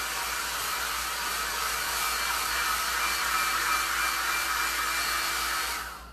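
A hair dryer blowing on a freshly painted remote control holder, a steady loud whirring hum running close and unbroken for about six seconds before switching off and winding down at the end.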